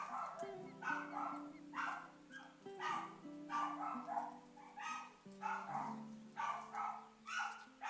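A pet dog barks persistently in the background outdoors near the Everglades, a string of around ten muffled barks in quick, regular bursts at a moderate distance.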